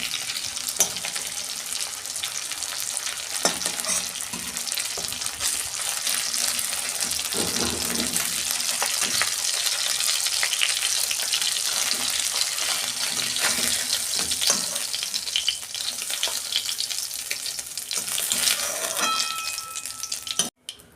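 Amudi fish fry in hot oil in a wok, a loud, continuous bubbling sizzle that holds steady for the whole stretch, with occasional scrapes and stirs.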